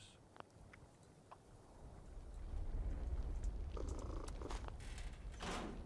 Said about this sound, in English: Oh yeah, here's my kitty cat.